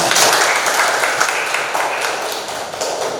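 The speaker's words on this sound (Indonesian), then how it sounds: "tepuk tangan untuk semuanya" Students in a classroom clap for all the groups, a short burst of dense, fairly loud applause throughout.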